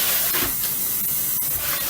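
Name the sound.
spraying water on kale leaves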